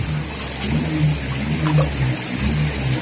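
A noisy car passes near a fish pond, its steady mid-pitched engine drone and broadband road rumble holding fairly loud throughout without speech.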